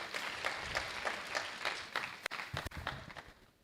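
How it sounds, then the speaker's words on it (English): A lecture audience applauds at a maiden academic lecture, steady clapping from a crowd that thins toward the end, with a few louder individual claps standing out. "Let's welcome with a round of applause."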